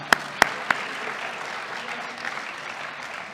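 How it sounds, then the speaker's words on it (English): An audience at an awards ceremony applauds in a steady, even wash of clapping, opened by a few sharp, close hand claps. "Can we clap it up one more time for that?"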